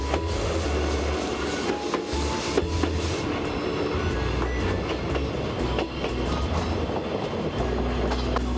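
The Chichibu Railway SL Paleo Express steam train rolls steadily across a bridge, heard from on board as a continuous rumble with rhythmic clattering of wheels on rails and no voices.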